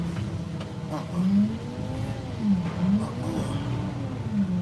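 A pickup truck's engine labors and revs unevenly as it lurches over rough, deep, uneven ground, its pitch rising and falling in waves close to the microphone.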